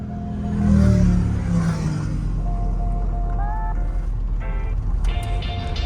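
A vintage Napier car engine pulls away in first gear, a loud low rumble that swells as it moves off, with rising gear whine and faint mechanical whirs.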